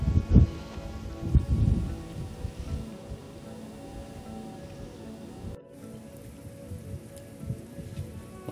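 Steady rain pours down on a hike up Alagalla mountain, a dense close hiss of drops striking leaves and ground, heaviest in the first two seconds and then settling into a constant wash.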